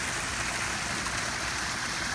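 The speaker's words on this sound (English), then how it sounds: "right next to the little waterfall" Continuous rushing water of a small waterfall, a steady even splash with no voices.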